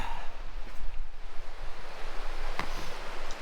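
A flowing creek on the Huckaby Trail near Sedona, Arizona rushes steadily close by, a continuous watery hiss mixed with gusts of wind buffeting the microphone and no voices.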